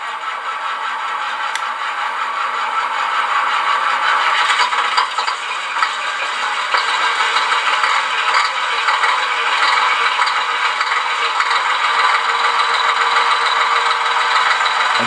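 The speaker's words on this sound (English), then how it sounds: "So let's start the engine and see what that looks like." A Beier SFR-1 sound unit in a 1/14 Tamiya Grand Hauler RC truck simulates an engine starting: a brief cranking rattle, then a steady mid-pitched electronic engine drone that settles into a continuous idle, close and fairly loud.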